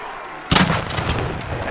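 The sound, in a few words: cannon fired after a football touchdown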